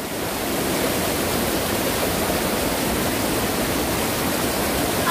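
A mountain valley stream swollen after a typhoon rushes continuously, a dense, steady roar of flowing water with no voices.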